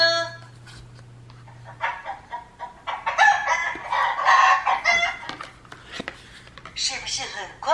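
A rooster crows and hens cluck from an interactive farm-themed sound book, a loud close electronic crow followed by clucking, with a person speaking over parts of it.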